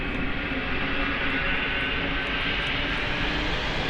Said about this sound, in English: There's SAS A320 departing over there.